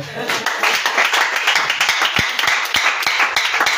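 A church congregation clapping to acclaim the Lord, a run of steady rhythmic hand claps mixed with voices throughout.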